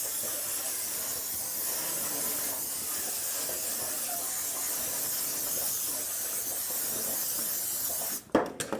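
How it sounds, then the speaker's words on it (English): Cooking spray from an aerosol can hissing steadily onto a deep dish pan for several seconds, then a few short sharp clatters at the end. "I got a deep dish pan here, and I'm going to spray it with some spray."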